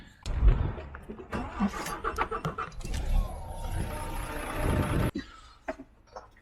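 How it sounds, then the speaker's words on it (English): A truck diesel engine cranks and starts, then runs with a rough, rumbling idle up close, with a voice speaking over it before the engine note drops away. "Right, so the truck's running."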